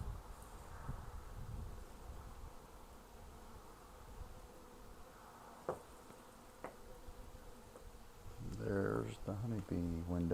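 Honeybees buzz in a continuous faint drone inside an abandoned 1920s Virginia farmhouse, with occasional footsteps or knocks and someone speaking over it near the end.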